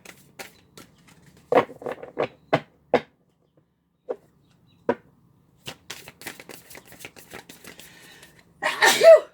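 A single sharp sneeze bursts out near the end after scattered soft clicks and taps of cards being handled close by.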